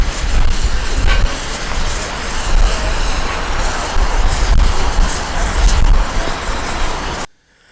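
A narrow gauge steam train on the Welsh Highland Railway rumbles loudly past close by, a continuous heavy roar with rattling wheels, cutting off abruptly at the end.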